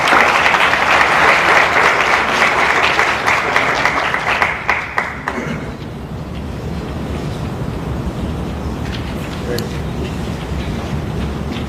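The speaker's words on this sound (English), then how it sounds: "give her a round of applause as she come up" Audience applause as a principal nursing officer walks up to speak at an honors event: a loud, dense burst of crowd clapping for about five seconds, then fading into a rumbling, windy hall ambience.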